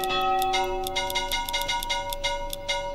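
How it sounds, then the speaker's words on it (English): A church bell in the medieval city-building game Manor Lords rings with a rapid series of bright metallic strikes and lingering tones, loud and clear with no talking. "let's change the bell. I don't like this one's too deep."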